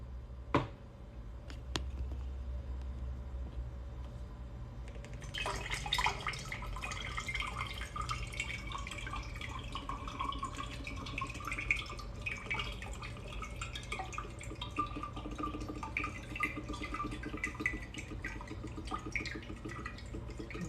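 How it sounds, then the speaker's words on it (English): Water poured beside coconuts, starting after a few sharp clicks and taps with a steady splashing, trickling stream that runs on continuously at close range, with no talk over it. "let me pour the water"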